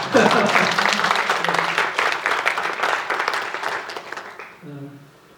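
An indoor audience at a lecture event breaks into a dense burst of applause that is loud at first, then fades over several seconds, ending with a brief voice.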